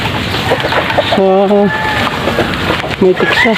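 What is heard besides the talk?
hen clucking while laying eggs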